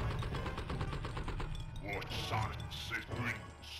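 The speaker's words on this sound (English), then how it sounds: "I'm pulling out my AK now." Rapid AK rifle gunfire in the video game Blood and Bacon rattles in dense bursts through the first half, with game sounds and voices talking over it afterward.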